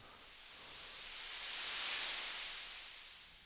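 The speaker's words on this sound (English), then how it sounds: "that kind of shaking movement that I like to put into my white noise sweeps" A synthesized white noise sweep built in the Phase Plant synthesizer, a smooth hissing wash that swells steadily to a peak midway and then falls away, with no voices.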